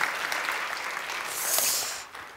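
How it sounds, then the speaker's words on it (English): Audience applause at an afternoon session of an equality and inclusion conference, a steady wash of many hands clapping that swells slightly toward the end, then thins out. "Let's give them a big round of applause as well."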